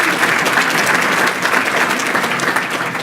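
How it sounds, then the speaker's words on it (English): Steady, dense audience applause at a county government State of the County 2018 event, sustained and fairly loud for the full stretch with no speech over it. "So another round of applause for Kari, please."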